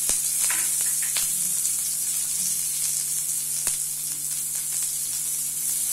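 Onion and curry leaves sizzle in hot oil alongside popped mustard seeds and dried red chilli for a Navaratri sundal, a loud, even hiss broken by a few sharp crackles and spatula clicks.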